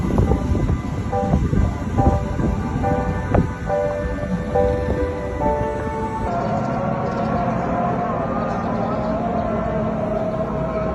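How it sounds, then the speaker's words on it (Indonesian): A commuter train pulls into a station platform in Jakarta with a steady low rumble and rushing noise that eases off partway through. Tonal chimes or announcement tones ring faintly over the noise for the first several seconds. "Jalur 2 akan dipersiapkan masuk komuter lain tujuan stasiun Bekasi via Manggarai."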